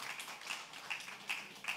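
A church congregation claps to welcome a pastor, a faint, steady rhythmic clapping with evenly spaced beats heard from a distance.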